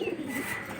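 A giribaz pigeon gives a short, soft coo as it is released from its cage, a single brief call close by.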